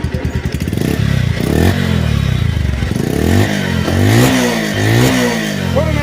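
A used motorcycle at a bike showroom in Bogura idles with a rapid, clattering pulse, then revs up and down several times in loud, rising and falling bursts, close by.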